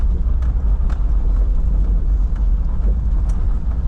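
A two-wheel-drive Volkswagen Vanagon with an air-cooled 2.0 liter, 67 horsepower engine climbs a dirt driveway with switchbacks, heard from inside as a loud, steady low rumble with occasional knocks and rattles.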